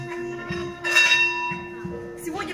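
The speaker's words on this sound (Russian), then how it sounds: "Поющие чаши многим известны, или тибетские колокола. Звук образуется от вибрации." A Tibetan singing bowl shown at a science and music exhibition, ringing with sustained steady tones and bright struck accents, partly under nearby voices.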